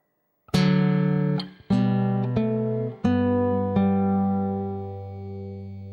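Clean guitar plays one measure of Minuet in G, a handful of plucked open-string notes and chords ringing out slowly and letting the last one sustain and fade, close and alone.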